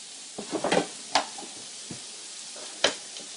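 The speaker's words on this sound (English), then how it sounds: "Okay, so that's the sauteing away." Food sautéing in a pan for a meat curry casserole, a soft crackle with a few sharp clatters and stirring knocks, close and fairly quiet, with no talk.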